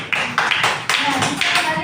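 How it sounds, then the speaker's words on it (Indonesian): A classroom of pupils claps for their classmates in a few quick bursts of applause, close and fairly loud, each burst lasting a fraction of a second. "Oke, kita beri tepuk tangan kepada teman-teman."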